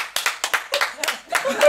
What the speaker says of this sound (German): Mal Applaus.